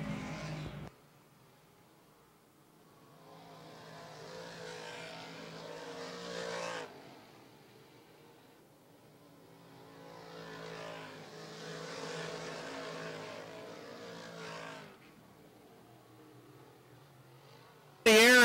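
Modified dirt race cars roar around the Mohawk International Raceway dirt track, engines rising in two long loud surges as the pack passes, then dropping back to a distant drone between passes.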